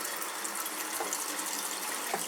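A kitchen faucet runs hot water at full pressure into the sink, a steady close splashing rush that stays even throughout, with no voices.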